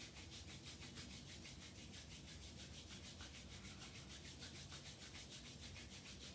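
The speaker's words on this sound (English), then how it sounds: "Rub the hands together." Palms rubbed briskly together during a yoga class, a steady dense friction swish with a quick back-and-forth rhythm, fairly close and alone without talk.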